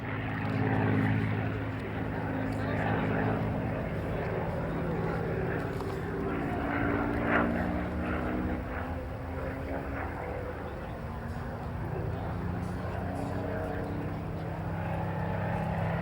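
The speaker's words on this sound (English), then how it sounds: "Pulling the aeroplane up on the B axis." A propeller plane drones steadily overhead at the 2002 Shoreham Airshow, its engine note slowly shifting in pitch as it passes, with a voice talking over it.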